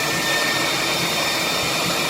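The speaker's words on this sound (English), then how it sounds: "use a tooth dryer, which has no moisture in it" A dental tooth dryer blows a steady, close airstream, a continuous hiss-like whoosh resembling a small hair dryer, running evenly without pause.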